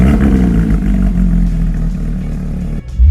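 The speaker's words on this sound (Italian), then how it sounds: "accendiamo questo Flat 6" A Porsche GT3 RS flat-six engine with a straight exhaust runs loud and close, a steady mid-pitched idle-like drone that drops away sharply near the end before a brief thump.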